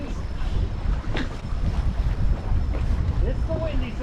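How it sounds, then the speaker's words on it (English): Gusty wind buffeting a fishing boat on Lake of the Ozarks in winter, a loud rough rumble over the microphone with light water slapping, while people talk nearby. "It's the windy side."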